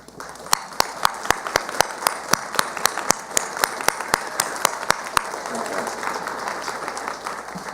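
At a commencement ceremony, staff members are applauded while a few sharp, evenly spaced claps sound close by over a broad crowd clapping that fades toward the end.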